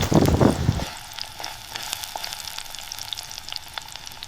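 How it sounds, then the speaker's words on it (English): Onion sizzles in a miniature pan on a wood-fired clay stove, a loud burst at the start settling into a steady, softer crackle with scattered pops. "Frying onion."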